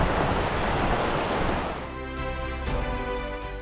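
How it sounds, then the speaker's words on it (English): Loud, steady rushing of the Río Blanco flowing over a loose-rock riverbed on the Piedras Blancas Glacier trail in Patagonia, a continuous close roar that eases slightly partway through. "replaced by loose rock and the sound of rushing water."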